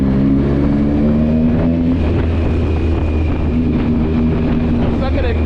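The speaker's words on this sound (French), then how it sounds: "le bruit du moteur parce qu'on roule" A loud, steady engine drone while riding, with a constant low rumble and some wind noise throughout.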